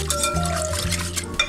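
Extra water poured into a pot of beef stew with tomato paste, a short steady trickle of liquid with faint clinks, close by and without talk.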